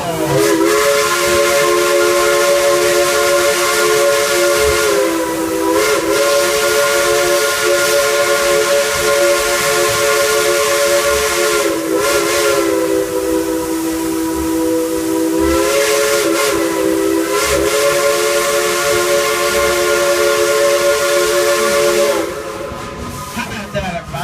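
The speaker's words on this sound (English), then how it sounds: "Would you like to hear the engineer play a tune on that Crosby 3-chime whistle?" A Dollywood Express steam locomotive's Crosby three-chime whistle blows loud and sustained, sliding between chords in a short tune with a steady hiss underneath, then cutting off.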